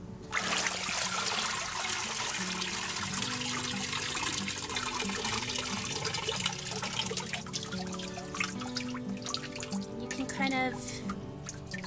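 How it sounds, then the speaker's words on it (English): Water drains and trickles from a papermaking mould as it is tilted side to side, a steady close dripping and pouring with a low tonal hum running underneath. "Shift it around to let the water come out each side. Make sure it's good and drained."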